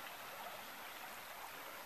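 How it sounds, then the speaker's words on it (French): A small snowy-bank river flows with a steady, even rushing hiss, constant throughout and moderately distant, with no talking. "Donc on a la petite rivière."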